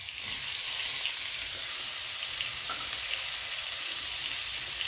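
Onion, ginger and green chili paste with chili, turmeric and cumin powders frying in a pan, a loud, even, continuous sizzle close up with no voices.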